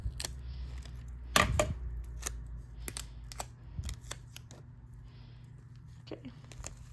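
Tape being pulled and cut while packaging plants: a few close, sharp tearing rips and snips among quiet handling noises and rustling.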